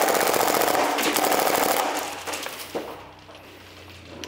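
A Krytac Vector gas blowback airsoft gun fires a loud, fast full-auto burst of sharp, evenly spaced clacking shots for about two seconds, then falls off into quieter handling sounds.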